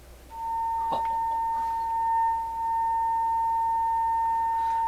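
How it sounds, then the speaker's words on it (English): A steady, pure 1000 hertz sine wave tone from an EICO Model 377 audio generator holds at one pitch throughout, with a faint background hum and a few soft clicks. "Sine wave, square wave."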